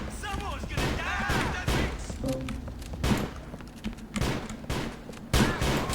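Explosions and gunfire crack out in GTA: The Lost and Damned, repeated booming thuds and shots spread across the clip, loud and near, with game voices talking among them.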